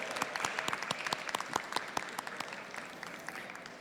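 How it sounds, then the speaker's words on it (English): An outdoor audience at an International Day of Yoga event hosted by India's Chicago consulate claps steadily for the guests, with dense, sustained applause and crisp individual claps near the front. "a big round of applause to all the distinguished guests and friends who are"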